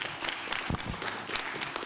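A school board meeting audience gives a short burst of applause, with dense, steady clapping from many hands filling the room for about two seconds.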